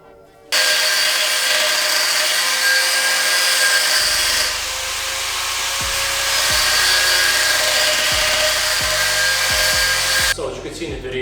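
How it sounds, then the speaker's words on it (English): A saw cuts along the weld of a three-piece SSR GT3P wheel with a loud, continuous high-pitched metallic whine and grinding. Periodic low thumps come from the blade bouncing against the metal. "the saw was bouncing around, but the main key to this step is to barely even have contact with the metal"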